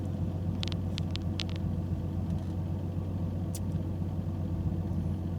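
A Toyota Supra RZ drives along with a steady low engine and road rumble heard from inside the cabin, plus a few faint clicks, no talking.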